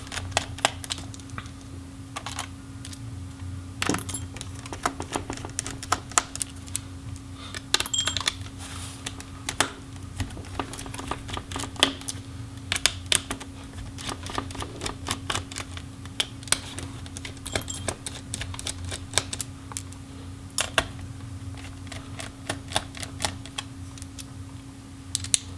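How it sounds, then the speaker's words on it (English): Small screws are removed from the motherboard of an Alienware M15 R1 laptop, giving scattered light clicks, ticks and taps over a low steady hum, close and fairly quiet, with no talking. "now we will remove the motherboard screws"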